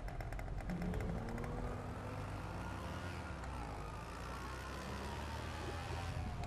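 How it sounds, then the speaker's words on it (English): The Oppressor bike in GTA V runs with a steady, crackling engine drone, with a faint rapid ticking early on and a constant low rumble throughout. "I love the crackling noise."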